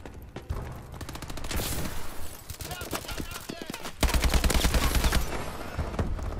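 Rapid gunfire in Call of Duty Advanced Warfare multiplayer team deathmatch, with dense bursts of close, loud shots and a heavier volley near the end, mixed with game effects.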